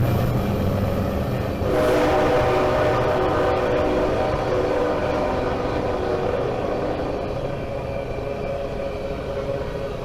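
A heavy BNSF freight train hauled by five locomotives rumbles past steadily and loudly, with a deep low drone and metallic rattling throughout, rising slightly early on.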